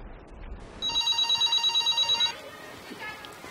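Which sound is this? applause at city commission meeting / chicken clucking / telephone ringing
telephone ringing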